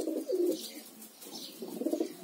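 Pigeons coo softly in a few short, throaty, rolling phrases, at moderate distance, with a quiet outdoor background and no talking.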